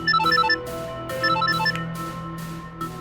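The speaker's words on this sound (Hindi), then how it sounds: "इतनी रात में मम्मी का फोन आ रहा है," A mobile phone ringtone sounding at night, a looping electronic melody repeating in short bursts, steady and fairly loud with no voices.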